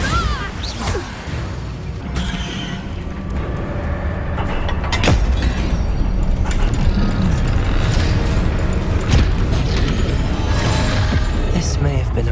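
The Bombarda blasting spell in Hogwarts Legacy goes off amid battle, bringing loud crashing and rumbling blasts with debris clatter that swell and stay dense, with voices heard over the chaos.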